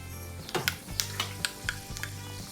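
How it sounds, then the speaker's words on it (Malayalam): Mustard and fenugreek seeds sizzle in coconut oil with a faint steady frying hiss, punctuated by sharp popping crackles and light clinks of a spoon against the pan. "2 സ്പൂണ് വെളിച്ചെണ്ണ, 1/2 സ്പൂൺ കടുക്,"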